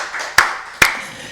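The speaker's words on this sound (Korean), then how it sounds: "우리 박수 하나님께 영광 드리겠습니다" A congregation at a church worship service gives two sharp, bright claps about half a second apart, close and loud, each fading quickly into a faint room hum.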